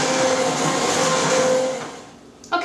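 An immersion blender whirs steadily while blending hot homemade BBQ sauce, a close, continuous motor hum that fades out near the end before a brief clatter.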